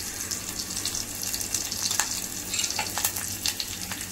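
Asafoetida tempering sizzling in hot oil for masoor dal, a steady close hiss with crackling pops throughout and no talking.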